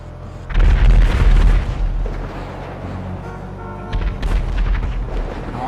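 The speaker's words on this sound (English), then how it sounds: "All these explosions sound hella close." Heavy booming explosions in the video game GTA 5, a loud cluster early on followed by further rumbling blasts and crackle, like artillery fire.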